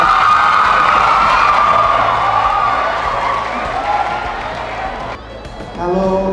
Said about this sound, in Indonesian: Tepuk tangan buat bertiga.